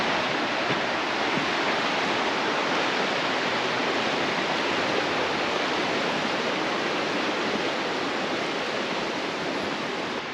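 A brook tumbling downhill past old mill ruins, a steady, dense rush of water that stays loud and unbroken for the whole stretch, with no voices over it.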